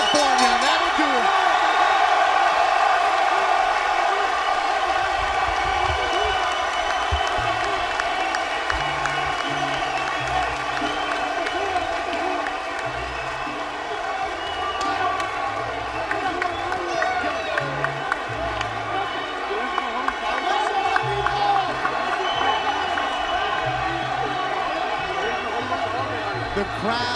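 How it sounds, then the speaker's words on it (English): A boxing arena crowd in Carson, California, keeps cheering and applauding after the final bell, a sustained roar of voices and clapping heard beneath continuous commentary from ringside announcers. "The crowd still cheering, standing up."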